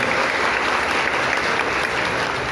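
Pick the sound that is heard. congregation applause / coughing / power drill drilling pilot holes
congregation applause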